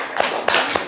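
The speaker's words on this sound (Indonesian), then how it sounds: "Tepuk tangan dulu untuk YouTube." Hands clap in short bursts at a school gathering, a few sharp taps and smacks, close and moderately loud, with no talking.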